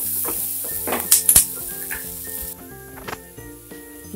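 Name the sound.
sizzling tempering (oggarane) in hot oil for pav bhaji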